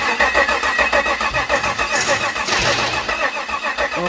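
A 2015 GMC V8 engine cranks during a spark check after an overhaul, giving a loud, close, rhythmic starter churn that pulses evenly for about four seconds without catching, with no voices.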